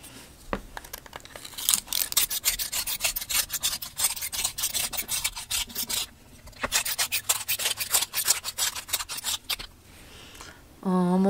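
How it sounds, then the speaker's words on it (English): Rapid, rhythmic rasping of Prismacolor Verithin colored pencils being turned in a handheld sharpener, close and continuous in two bursts with a short pause between, ending with a brief voice. "And I'm just going to sharpen these guys now."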